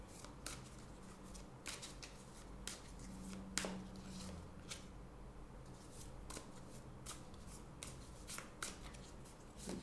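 Tarot cards are shuffled and drawn, a fast run of crisp riffling flicks and sharp snaps close by, steady throughout with no voice over it.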